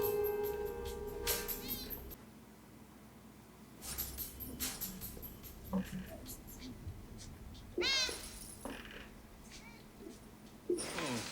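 A black cat meows in a scene from The Matrix. Several drawn-out meows come and go, close and clear, with people talking around and between them.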